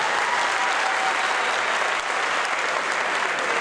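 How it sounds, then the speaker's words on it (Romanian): An audience claps for a folk ensemble in dense, steady applause that stays loud and even throughout, with no break. "Vreau un rând de aplauze, vă rog frumos, pentru cei pe care nu i-am aplaudat înainte"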